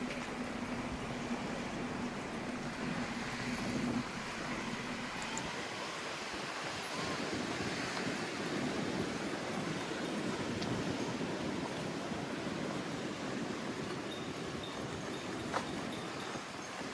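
Surf washes steadily onto a natural beach along the Los Cristianos to Playa de las Americas seafront, a continuous broad wash with wind noise, no distinct individual breakers standing out.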